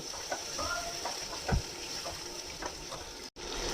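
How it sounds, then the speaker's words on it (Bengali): Peas and mushrooms with a ginger, garlic and tomato paste being sautéed in a pan, giving a soft, steady sizzle broken by a few scraping stirs, faint and heard at close range. "এইটাকে এবার খুব ভালো করে কষিয়ে নেব"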